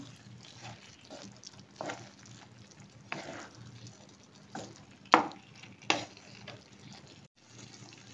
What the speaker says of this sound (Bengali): এরপরে আমি ব্ল্যাক পেপার দিয়ে দিচ্ছি। এবার খুব ভালো করে নেড়ে নিচ্ছি।